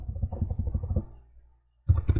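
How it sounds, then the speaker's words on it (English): Fingers tap quickly on a computer keyboard in an even run of clicks, pause briefly, then resume with a few louder keystrokes, close and dry with no voices. "I'm going to type in desk organizer."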